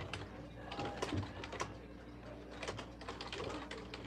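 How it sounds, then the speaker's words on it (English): Typing on a computer keyboard gives rapid, irregular clicks and clacks throughout, close but fairly quiet, over a faint background hum. "I'm typing something in the chat right now."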